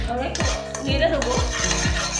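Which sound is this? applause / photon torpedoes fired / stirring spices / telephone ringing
stirring spices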